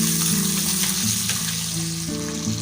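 Fennel seeds, shallots and garlic sizzle steadily in hot oil in a pan, a continuous close crackle with a low hum underneath and no talking.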